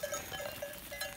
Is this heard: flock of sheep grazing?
yes